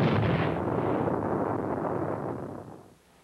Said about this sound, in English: They throw powerful weapons into the mock battle, using Honest John rockets and the 280mm atomic cannon.